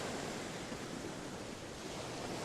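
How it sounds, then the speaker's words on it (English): Atlantic ocean waves crash against rugged cliffs on a stormy coast, a dense, steady roar of surf and wind that fills the whole stretch without pause or voices. "the Atlantic's waves crashed against rugged cliffs"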